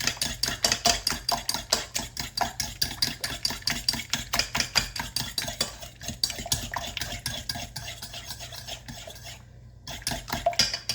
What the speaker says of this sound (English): I'm just going to mix that up